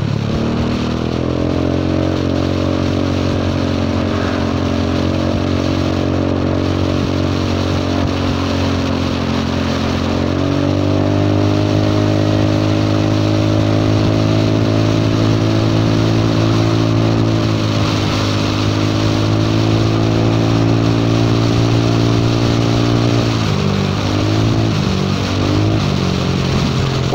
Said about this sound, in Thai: เสียงมันรถท่อแตก